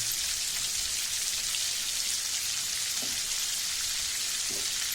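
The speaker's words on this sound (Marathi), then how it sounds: "हे बघा आपलं बटर चांगलं तापलेलं आहे त्यामध्ये मोहरी घालायची" Mustard seeds sizzle in hot butter in a pressure cooker for pav bhaji, making a steady, dense, rain-like hiss throughout with a couple of faint pops.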